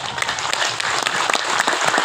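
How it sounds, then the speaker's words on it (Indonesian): Hand clapping from a gathered crowd at a Balinese Hindu ngenteg linggih consecration ceremony, brisk and continuous applause heard up close for a couple of seconds. "tepuk tangan"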